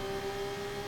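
Sustained engine drone of an F2 race car held in 5th gear on the Belgium circuit in F1 24, a steady mid-pitched whir with a constant tonal line, loud and close throughout with no talk.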